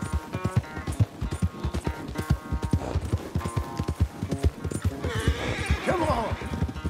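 In the video game Red Dead Redemption 2, horses clip-clop with rapid rhythmic hoofbeats throughout, and a loud shrill whinny rises near the end while someone talks excitedly over the action.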